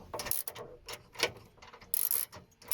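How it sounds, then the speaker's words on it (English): A nut is tightened on a stud during Vauxhall Astra Mk4 rear side window work, a ratchet giving quick uneven clicking strokes, close and fairly quiet with short pauses between bursts. "while he tightens up the nut"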